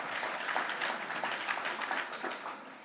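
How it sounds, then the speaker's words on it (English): Audience clapping after a mayor's address, an even, continuous patter of many hands heard from a distance, moderately faint, with no talking over it. "I was kind of hoping the clapping would last longer"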